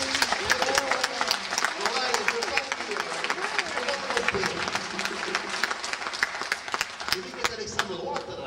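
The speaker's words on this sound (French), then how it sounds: "je vous demande un tonnerre d'applaudissements" An audience applauds a troupe of musicians, sharp individual claps ringing out over a murmur of voices, with talk running through much of it at moderate distance.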